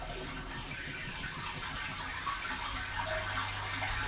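A freshwater sump pump running with water rushing and bubbling steadily, a continuous gushing wash with a low motor hum near the end.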